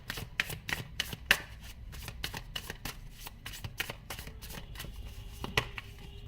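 Tarot cards being shuffled by hand before one is drawn, a steady run of soft, rapid riffling flaps and clicks, close and fairly quiet, with no talking over them.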